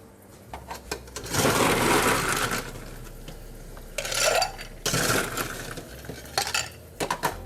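Ice being scooped into a mixing glass for a stirred Martinez cocktail: a long rattling crunch of cubes, then a second shorter burst with scattered clinks, close and fairly loud.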